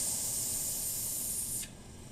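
A Phoebus 100 lipstick-style burner fitted with a silent cap, simmering with a steady soft hiss that cuts down abruptly near the end, with no talking.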